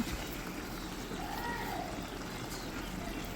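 Water poured into a pot of beef curry that has been cooked down nearly dry, a steady rushing trickle running through the whole stretch at moderate, close level.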